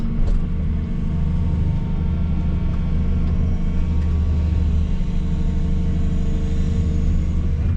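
Dredging machine engine warming up with added throttle, a loud, steady low rumble and drone that persists throughout without clear revving peaks.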